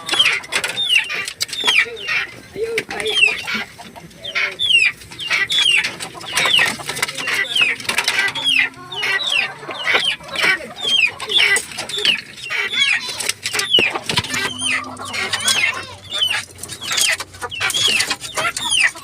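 Hungry chickens at feeding time in a coop cluck and squawk continuously, with occasional wing flaps, close by and fairly loud; no talking.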